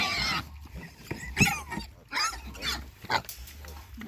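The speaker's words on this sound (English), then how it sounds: "My goodness, pigs." Pigs and piglets on a farm grunt and oink in short, uneven bursts close by, a few squeals mixed in, with a faint low rumble underneath.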